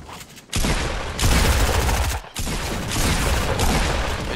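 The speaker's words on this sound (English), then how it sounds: "there's someone else over there shooting at the balcony" Bursts of rapid video game gunfire, loud and close, with dense fusillade volleys broken by short gaps, heard alone without talk.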